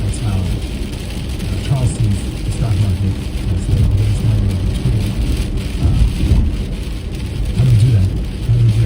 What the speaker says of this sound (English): it's been raining here for days, on and off.